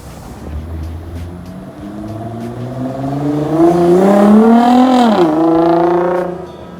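Nissan 370Z fitted with a new Y-pipe pulls hard, its engine note rising steadily in pitch to a loud peak, dipping briefly with a shift, then fading away.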